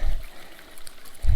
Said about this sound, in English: this is just a trickle, and yet it can support trout